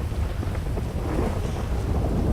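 Thunder from a lightning strike rolls as a deep, loud, continuous rumble with a steady rain wash during a storm in the video game GTA V FiveM roleplay, with no voices.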